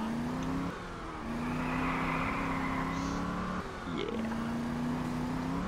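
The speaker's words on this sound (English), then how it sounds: "So we're driving now on the highway" A car in the video game Just Cause 2 cruises along a highway, its engine a steady loud drone throughout, dipping briefly twice as it shifts or changes speed before climbing again.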